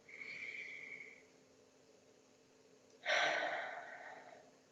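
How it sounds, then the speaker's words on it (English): Slow, deep breaths during a guided relaxation exercise: a soft, airy inhale fading out over the first second, then a louder, fuller exhale starting around three seconds, close and alone with no talking. "take a nice deep breath in and then out"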